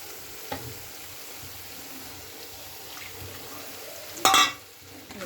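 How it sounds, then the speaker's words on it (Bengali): Mustard-poppy paste is stirred into a fish masala for pabda fish jhal, giving a faint, steady sizzle under light stirring. Near the end comes a short, louder burst of splashing water. "এবার এখানে যে সর্ষে পোস্ত বেটে রেখেছিলাম ওটা দিয়ে দেবো। ভালো করে একটু মিশিয়ে নেব।"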